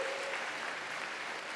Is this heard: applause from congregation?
yes